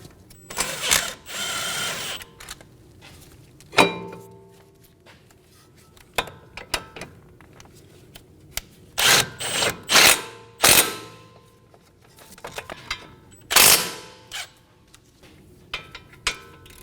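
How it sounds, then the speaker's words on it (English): Wrench or ratchet work snugging the front brake bolts on a 2019-2026 Mazda 3, heard as bursts of sharp clicking and metallic clatter in uneven clusters, close by with short quiet gaps between them. "Snug the bolts down."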